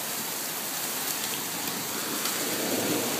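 Heavy rain pours steadily with hail mixed in during flooding, a dense continuous hiss of water that stays loud and even throughout, with no voices.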